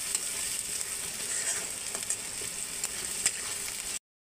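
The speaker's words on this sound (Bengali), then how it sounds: "পেঁয়াজ রসুনটি ভালো করে ভাজা হয়ে গেছে" Onion and garlic sizzle and crackle steadily in a hot pan, a continuous close frying hiss with occasional stirring scrapes, then it cuts to silence.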